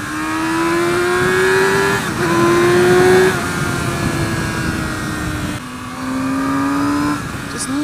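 A 2017 Yamaha R6 sport motorcycle engine revving high and rising in pitch, a loud buzzing wail that dips between gear changes and climbs again, heard close with faint wind noise.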